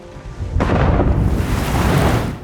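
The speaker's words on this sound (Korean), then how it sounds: "잠시 뒤 거대한 폭풍우가 몰아치고" A great storm breaks in a fantasy TV series at sea: a sudden loud thunderclap after a brief quiet lead-in, followed by a dense roar of wind and rain that continues to the end.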